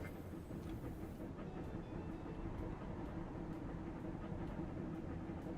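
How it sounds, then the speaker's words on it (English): A train runs in the video game Railroad Corporation 2, a steady low rumble with faint, evenly spaced clicks along the track and no voices over it. "we've got our first new train on the go"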